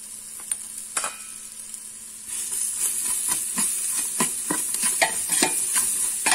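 Homemade seasoning with colouring sautéing in a pot as the base for lentil soup: a constant bright sizzle with repeated spoon scrapes and clinks, growing louder partway through and heard up close without talk.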